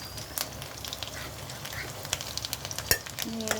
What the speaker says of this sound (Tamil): எண்ணெய் சூடான உடனே இந்த சின்ன சின்னதாக கட் பண்ணி வச்சுருக்கோம்ல அந்த பூண்டு வந்து போட்டுடணும்